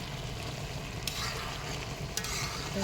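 Bottle gourd and prawns cooking in a pan, a steady loud sizzle with stirring scrapes and two sharp clinks of a spoon against the pan, no voices.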